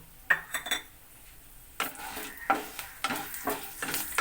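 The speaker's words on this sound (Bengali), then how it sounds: "এটা আমি এর মধ্যে ফোড়নের মধ্যে দিয়ে একটু হালকা করে ভেজে নেবো" Matar dal fries lightly in tempering oil in a pan for a bottle gourd curry, with a low steady sizzle broken by sharp spoon clinks and scraping strokes from stirring.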